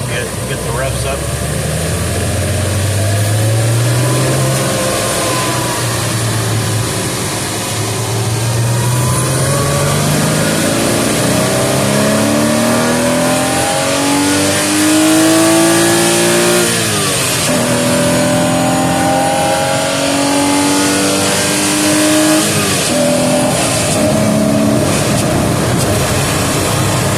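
A Porsche Boxster S flat-six engine revs up repeatedly in a garage, its pitch climbing and falling in loud, sweeping bursts, with a few spoken words under the engine noise.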